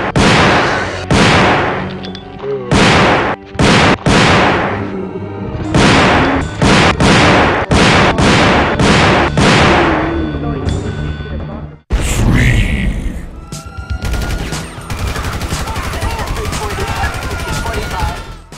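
SPAS 12 shotgun fire in a GTA game: a rapid series of loud, close blasts with short gaps between them, followed by a dense, continuous stretch of game noise and effects.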